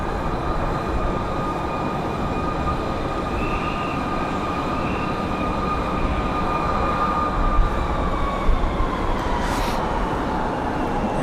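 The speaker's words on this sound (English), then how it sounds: "Oh, there's that American A321 coming down the hill." American Airlines A321 jet taxiing at Raleigh-Durham International Airport after a storm, a steady loud engine roar and whine with a tonal hum that shifts slightly as it moves, with no talking.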